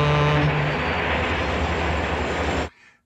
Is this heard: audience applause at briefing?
no